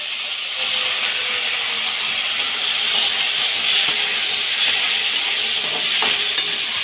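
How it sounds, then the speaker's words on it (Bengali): Thin potato and pumpkin slices fry in hot oil with a loud, continuous sizzle and hiss, close up and steady, with occasional faint stirring clicks and no talking. "কুমড়ো, এটা আমি তেলের ওপরে দিয়ে দেবো।"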